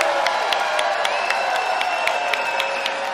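A concert crowd at a show in Denver, Colorado, cheers, whistles and applauds, with a dense, steady roar punctuated by regular louder claps and a sustained whistle tone, all fairly close and loud.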